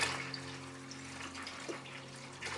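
Five litres of water poured into a bucket, a continuous soft rushing splash with a low steady hum beneath it, close and fairly quiet.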